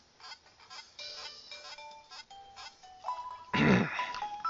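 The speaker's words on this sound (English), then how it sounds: "That's a cool ringtone." A synthesized phone ringtone in Pokemon HeartGold plays a short melodic beeping tune, with a burst of noisy grunting sound midway.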